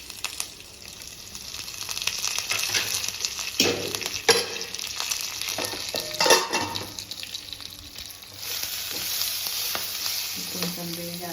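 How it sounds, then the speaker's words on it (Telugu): Curry leaves, cumin, dried red chillies and asafoetida frying in an oil tempering for sambar, a loud continuous sizzle with bursts of crackling and spitting as leaves hit the oil, plus a few metallic clinks. "కరివేపాకు వేసుకోండి."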